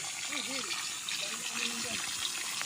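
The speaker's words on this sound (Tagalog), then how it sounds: "Mayroong tubig na umaagos." Spring water flows from the ground beside a river on a farm lot, a constant splashing gush close by, with a voice talking faintly over it.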